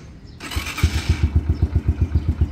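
A motorcycle starts with a brief cranking whir and then settles into a close, steady idle with rhythmic, even pulses.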